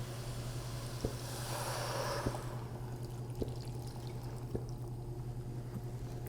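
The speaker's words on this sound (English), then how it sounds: "I'm going to use some water." Water is poured into a pot of simmering apple pie filling with sugar, cinnamon and salt, a soft steady pouring wash over a low hum, with a few faint clicks spaced through the quiet.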